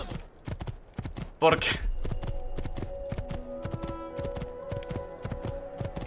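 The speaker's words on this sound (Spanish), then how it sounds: "pasar a caballo por aquí es bastante mejor que con la puta carreta de los cojones" A horse clip-clops at a steady trot in Assassin's Creed II, the hoofbeats close and even throughout, with a brief whoosh, a short spoken question and a sustained tone layered over them.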